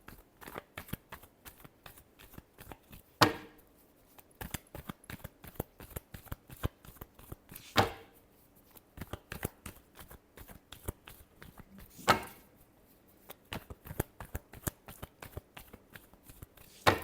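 Tarot cards being shuffled by hand, a series of crisp riffling flutters and sharp slaps in bursts, with brief louder riffles every few seconds, close and quiet with no talk.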